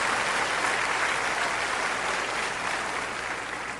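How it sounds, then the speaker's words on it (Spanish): Church congregation applauding together in a steady, dense wash of clapping that holds at full strength and eases off slightly toward the end, with no voices heard over it. "denles un aplauso a esa chilanguiza"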